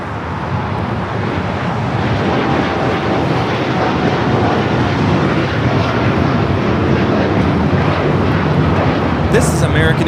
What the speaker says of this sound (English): This is American Airlines Flight 27 taking off to Tokyo, Haneda on the 787-9 Dreamliner.